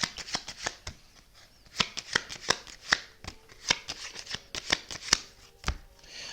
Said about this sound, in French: Je tire les 3 premières cartes.